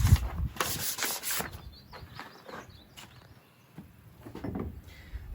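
Ash is rubbed off a still-warm forged hammer, giving soft, uneven scraping and scrubbing strokes at close range, with a few light knocks and quiet handling in between.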